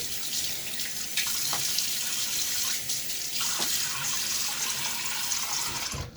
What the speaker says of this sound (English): just splashing my face with water before I start to build my lather